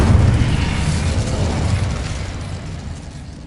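Incendio fire spell blast from Hogwarts Legacy, a loud, roaring burst of fiery noise that swells at once and sustains, slowly fading over a few seconds.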